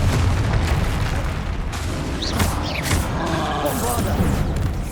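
Confringo fire spell blasts from Hogwarts Legacy gameplay, a dense rumbling boom with sharp bursts layered over a continuous loud roar of combat effects, several impacts close together through the whole stretch.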